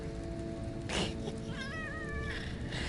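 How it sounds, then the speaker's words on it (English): A cat meows once with a rising, wavering call, fairly faint, over a steady background hiss, with a brief rustling burst just before it. "Meow like a real cat."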